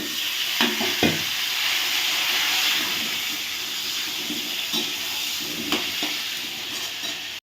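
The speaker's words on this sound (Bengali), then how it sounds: "এবার আমি দিয়ে দেব আলুগুলো ভেজে নেব" Potatoes frying in hot oil in a home kitchen, a steady broadband sizzle and hiss with a few sharp stirring clicks near the start, close and continuous, with no talking.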